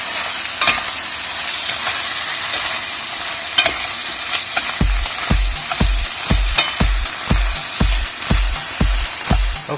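Shrimp and pork belly fry loudly in annatto seed oil, a constant close sizzle joined midway by a steady run of rhythmic stirring knocks against the pan.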